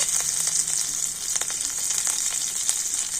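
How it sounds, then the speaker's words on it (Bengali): Green chillies and nigella seeds frying in hot oil, a steady, close bright sizzle with occasional soft crackles and stirring, no voices. "কাঁচা লঙ্কা কালো জিরেকে একটুখানি ভেজে নিয়ে এর মধ্যে দিয়ে দেব"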